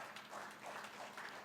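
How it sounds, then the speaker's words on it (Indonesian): Congregation clapping at a Sunday church service, a faint, continuous wash of applause from a crowd with a steady patter, heard at a distance for a brief moment. "Tepuk tangan bagi Tuhan Yesus."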